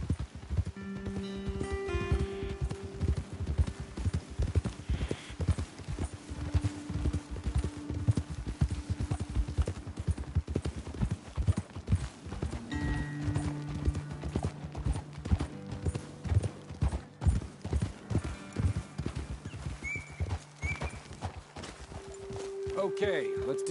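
Horse hooves in the video game Red Dead Redemption 2 clip-clop in a steady walking rhythm, close by, while voices talk over them now and then.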